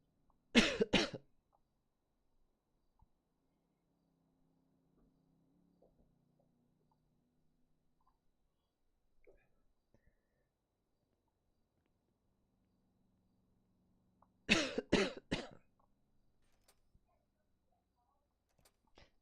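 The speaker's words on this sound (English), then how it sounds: "I'm fake coughing." A gamer deliberately fakes a cough during a GTA roleplay stream: two short, close, fairly loud bursts of coughing roughly fourteen seconds apart, with near silence and a faint hum between them.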